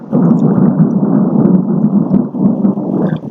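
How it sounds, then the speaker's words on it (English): Thunder from a thunderstorm outside rolls as a loud, continuous low rumble with a steady, muffled texture and no voices over it. "got a little thunderstorm going on out there"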